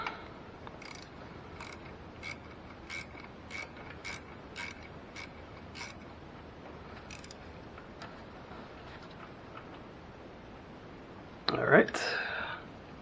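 A 1/4-inch ratchet tightens the belt tensioner bolt on a 2004 Ford Focus, with a string of quiet, regular clicks, faint workshop background, and a louder clunk and rattle near the end.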